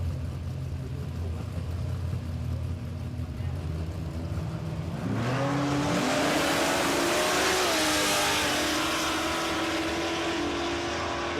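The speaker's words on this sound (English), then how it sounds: "The LC got out like a little rocket on that occasion." Holden Torana LC drag car at a no-prep drag racing event, idling then launching with a sudden loud roar that climbs through rising revs and holds strong, close, under commentary.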